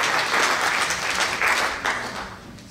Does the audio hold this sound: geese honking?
no